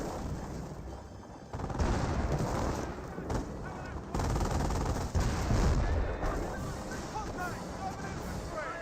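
Sporadic bursts of rifle and machine-gun fire crackle through a dense World War II battle soundscape in Company of Heroes, with squads firing amid rumbling explosions at moderate distance, steady and unbroken throughout.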